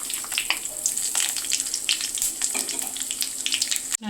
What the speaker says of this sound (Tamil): 1 ஸ்பூன் சோம்பு, ஒரு 10 லவங்கம், நட்சத்திர மொக்கு, பட்டை, பிரிஞ்சி இலை, 5 ஏலக்காய் சேர்த்து நல்லா பொரிய விட்டுடலாம்